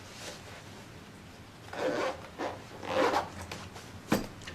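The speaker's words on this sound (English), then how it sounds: "Take your scrim, wrap it up, put it in this little bag that it comes with from Scrim King." Fabric scrim being wrapped up and tucked into its small storage bag, a few soft rustling and rubbing bursts close by, quiet with pauses between handling sounds.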